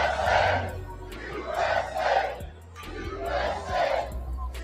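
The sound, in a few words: crowd cheering at a rally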